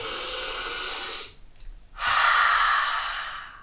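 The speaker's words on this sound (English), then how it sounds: "Let's take 3 deep breaths together" Two deep breaths through the mouth, close and unhurried: a long airy exhale, a short quiet pause, then a strong full breath that tapers away.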